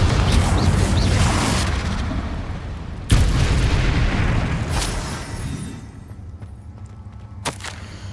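Confringo fire spells blast in Hogwarts Legacy, heavy booming explosions rumbling loudly with a second big burst near the three-second mark, then fading into a lighter crack and settling rumble.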